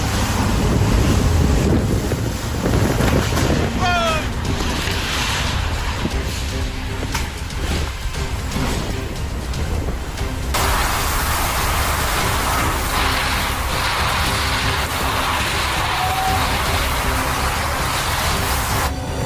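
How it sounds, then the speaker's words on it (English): Heavy surf crashes and roars continuously at Santa Cruz harbor, California, during a storm, mixed with loud wind buffeting the microphone and the churn of water around overturning boats and breaking docks. "Watch as powerful waves hit California's Santa Cruz harbor on December 2024, overturning boats and destroying docks."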